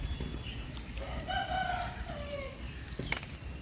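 A rooster crows once in a home garden, a drawn-out call at moderate distance over a low background hiss, followed by a few faint clucks and scratches.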